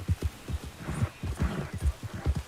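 Horse hooves in Red Dead Redemption II beat out a quick, rhythmic clip-clop with a run of distinct, evenly spaced thuds. The hoofbeats are close and moderately loud, and no other sound dominates.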